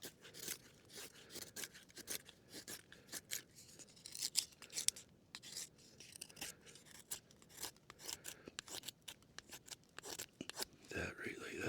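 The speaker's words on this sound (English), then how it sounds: "I'm just going to make some splinters, some kindling." Cedar wood being split and shaved into splinters and kindling by hand: faint, close, irregular scraping and cracking snaps, scattered quiet crunches with no steady rhythm.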